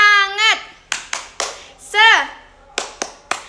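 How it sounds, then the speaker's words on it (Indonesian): Children in a classroom clap out the tepuk semangat clapping game, sharp hand claps in short groups alternating with their chanted voices, close and fairly loud. "ibu ingin mengajak kalian semua untuk melakukan ice breaking tepuk semangat ya"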